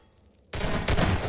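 A loud magnum revolver headshot from a Half-Life 2 Deathmatch competitive match bursts in abruptly after near-silence, followed by a second sharp report, with no voices.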